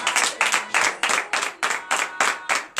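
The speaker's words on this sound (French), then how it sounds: "Si tu crois, donne l'acclamation au Seigneur Jésus." A church congregation at a morning prayer service in Benin claps in a steady rhythm, about eight loud, evenly spaced beats of group clapping with crowd voices mixed in and no speech over it.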